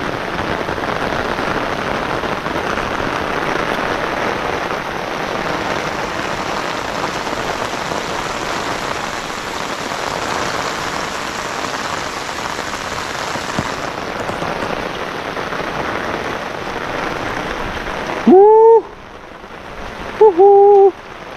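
Very heavy rain pouring down steadily over an ampalaya (bitter gourd) field, a dense loud roar that holds for most of the time before cutting out, followed by a few brief tonal sounds.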